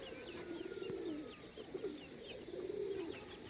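Pigeons coo on the roof of a loft, a few soft, rolling low calls repeating at a moderate distance over quiet outdoor background noise. No one speaks.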